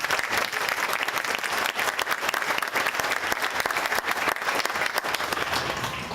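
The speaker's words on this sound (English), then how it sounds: "So please, a round of applause" Sustained, loud applause from a graduation crowd, dense and even throughout, with slight surges and a brief dip midway.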